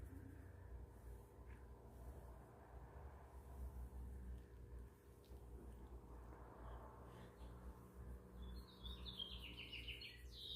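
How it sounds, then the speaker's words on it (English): Faint birds chirp in the distance, with a short burst of high tweets near the end over a steady low hum. "You hear those birds outside?"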